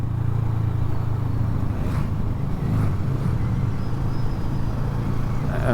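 A 2007 Kawasaki ER6N twin-cylinder motorcycle engine drones steadily at low pitch while riding, with constant wind rush over the microphone throughout and no talking.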